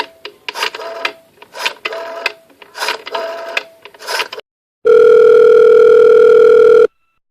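Old telephone: a run of rhythmic dialing clicks and whirs, then a loud, steady dial tone hums alone for about two seconds before cutting off.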